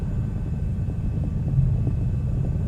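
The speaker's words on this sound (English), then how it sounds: "I think this altitude is just too much for this helicopter." A helicopter in a flight simulator game strains at high altitude on a route toward Mount Everest, a steady low rotor-and-engine rumble droning without a break and with no talk over it.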